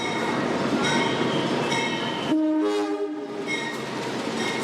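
Train horn sounds at Yogyakarta's main railway station, a loud sustained blast over steady rumbling of rail cars and platform noise.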